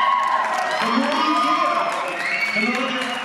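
Jazz club audience cheering and whooping in a loud, steady crowd roar, with shouts and voices rising throughout.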